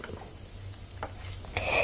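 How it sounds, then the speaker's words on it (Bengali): Paneer fries quietly in a pan for matar paneer pulao, with a soft, low sizzle and occasional stirring scrapes, ending in a brighter burst of crackling. "পনিরের আমার একটা পিঠ কিন্তু ভাজা হয়ে এসছে আমি এবার এটাকে উল্টে দেব"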